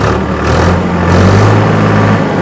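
A tractor engine revs up toward 2150 rpm with the PTO lever engaged for 1000 rpm output, a loud, close, low rumbling drone that rises and holds steady.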